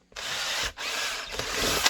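A drill boring into a foam and Kydex light-bearing holster for a Glock with a TLR-1 light, a loud continuous grinding whir with two brief pauses between bursts, close to the microphone and without talk.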